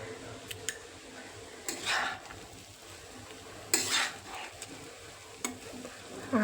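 Poha with salt stirred in a pan, soft scraping and clinking of a spoon in quiet, scattered strokes with a light sizzle underneath.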